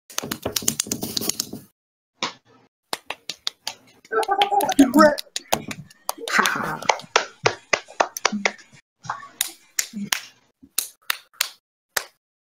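Hands clapping in an online community meeting, a quick run of sharp claps at first, then scattered slaps and taps mixed with speech-like sounds in the middle before more spaced claps.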